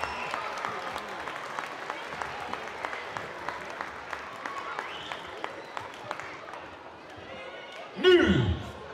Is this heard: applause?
yes